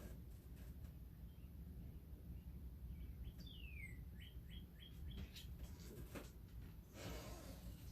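Faint bird chirps and short whistled calls drift in from a distance outside in Michigan over a steady low outdoor rumble, with a few soft clicks near the end.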